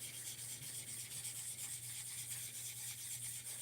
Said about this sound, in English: we're just going up finer and finer and finer grit to get higher and higher levels of polish on this thing